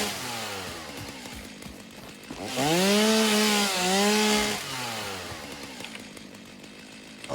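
Chainsaw in the video game Satisfactory cutting wood, its engine revving up into a loud rising whine for a couple of seconds, then settling back to a steady idle drone.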